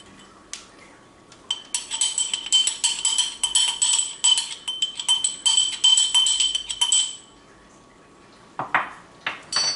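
A metal spoon scrapes and taps against a bowl while cornstarch is scooped, making a quick run of bright clinks and then a few more knocks near the end, close and clear.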